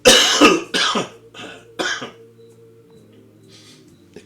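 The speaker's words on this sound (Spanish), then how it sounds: "si se escucha muy fuerte mi tos" A person with a sore throat coughs hard several times in quick bursts, close and loud, then the bursts fade away and a quieter breath or rasp follows.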